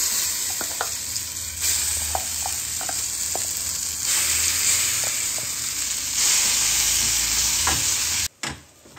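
Blended carrot sizzles steadily in a hot pan while a spoon stirs it, with soft scraping taps and brief louder swells, close and continuous until an abrupt cut near the end.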